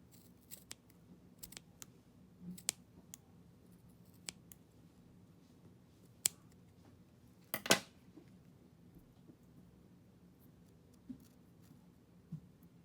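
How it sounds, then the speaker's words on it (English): Scissors cutting leftover material on a handmade dress, sparse sharp snips scattered through a quiet room with one louder cluster of cuts midway, close and alone. "Now I'm gonna cut the leftover here."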